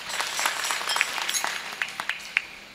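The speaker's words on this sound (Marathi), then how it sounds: "पाठीमागे सर्व पुरुष वर्ग एकदा सिस्टीमसाठी छान टाळी वाजवा" Men in the back of a kirtan audience clap on request, scattered, uneven hand claps with a few sharper near claps standing out over a soft room background.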